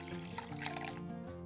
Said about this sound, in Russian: Сюда же наливаем 300 мл теплого молока и 300 мл воды.